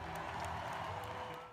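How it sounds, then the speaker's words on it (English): A baseball crowd at T-Mobile Park, home of the Seattle Mariners, makes a faint, distant, steady roar and murmur with slight swells of cheering. "This once familiar crowd noise has been lost in T-Mobile Park"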